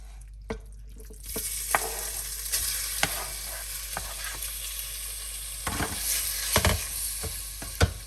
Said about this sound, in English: Let's leave it to saute for a few minutes as well.